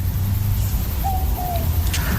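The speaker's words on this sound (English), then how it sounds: "It's a boobook owl. It's also known as a mopoke" An Australian boobook owl, or mopoke, gives a soft two-note hoot, low and mellow, heard at a distance over a loud steady rumble of night background noise.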